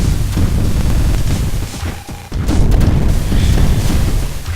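Giant nuke weapon blasts in the arcade plane shooter Luftrausers, heavy rumbling booms filling the low end almost continuously, with a brief dip and a sharp renewed burst midway, loud and dense.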